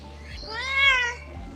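A single drawn-out Bengal cat meow, rising then falling in pitch, fairly close and clear with low background hum and no talking.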